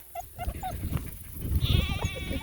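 Sheep bleat repeatedly at close range in a group that young puppies are learning to follow, with a higher wavering bleat near the end.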